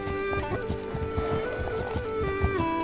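Horse hooves clip-clop in a steady, even rhythm in a historic open-world delivery sim game, with game music and ambient tones layered over them and no talking.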